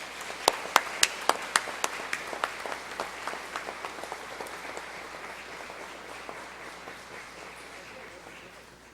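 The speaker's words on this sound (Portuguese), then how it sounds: "a quem peço uma salva calorosa de palmas" An audience at a formal ceremony honouring Portugal's national day applauds a public official, beginning with a run of sharp, distinct claps that merge into a dense, steady round of applause before tapering.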